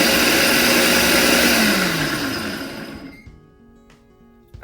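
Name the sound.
Ninja blender mixing dough ingredients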